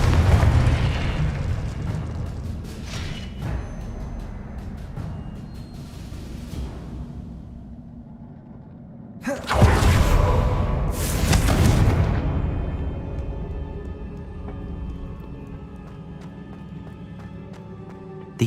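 A Confringo fire spell explodes in Hogwarts Legacy: a deep rumbling blast fades out, then a second sharp, loud burst erupts with crackling and a ringing, shimmering tail.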